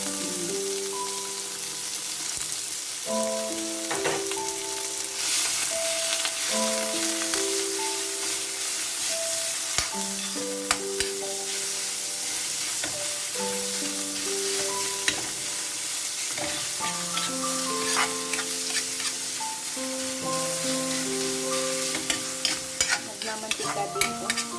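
Minced pork sizzles in a pan with a little oil and garlic while being stirred, with a steady hiss under repeated utensil clanks and background music.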